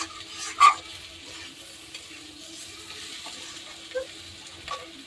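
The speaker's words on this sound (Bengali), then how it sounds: "হয়ে গেছে আমার মশলাটা কষানো" Spice masala sizzles and fries in a pan for a tilapia curry, a faint steady hiss with a few brief stirring scrapes and clinks over quiet background.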